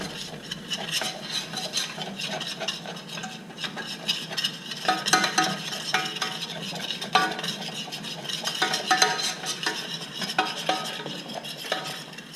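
Flour being stirred into a roux in a hot pan. A utensil scrapes and rubs steadily against the pan, with faint sizzling and no talking.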